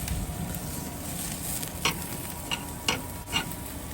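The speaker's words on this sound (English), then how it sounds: "this will be the last step on the grill for the Tomahawk steak before we take it inside." A tomahawk steak sizzling on an outdoor grill, a steady close crackling hiss with a few sharp pops and clicks standing out near the end.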